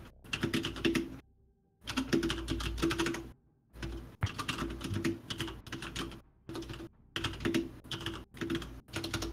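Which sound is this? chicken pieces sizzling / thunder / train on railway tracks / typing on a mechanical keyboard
typing on a mechanical keyboard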